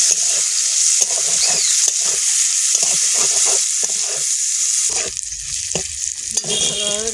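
Green chilies with onion frying in oil in a pan, a loud close sizzle with crackling bursts and repeated scraping stirs, steady throughout.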